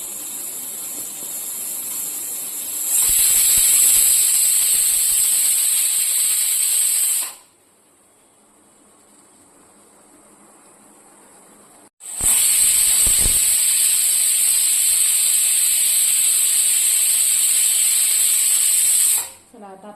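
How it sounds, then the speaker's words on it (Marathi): A pressure cooker cooking chicken masala gravy releases loud, sharp hissing bursts of steam, one long blast, a pause of quieter background, then a second sustained whistle-like hiss up close. "आता मी हे कुकरला लावणार आहे. तुम्ही बघू शकता कुकरला लावलेला आहे."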